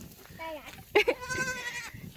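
A baby goat at a farm, close by, where visitors pet and feed goats, gives a couple of wavering, high bleats over about two seconds, with a voice nearby.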